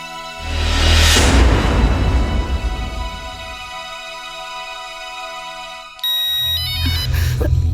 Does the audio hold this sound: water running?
no